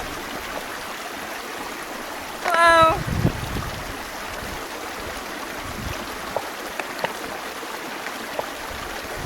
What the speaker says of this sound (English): I found a great outflow of water right here. It's moving quickly